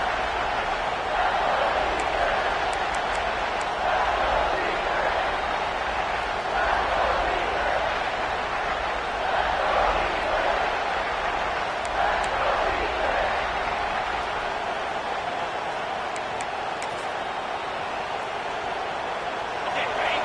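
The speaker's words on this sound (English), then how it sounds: "This crowd is trying to inspire this defense to make a big red zone stop." Sustained roar of a college football stadium crowd before a critical red zone down, a broad, steady wall of noise from thousands of fans with a commentator's voice running over it.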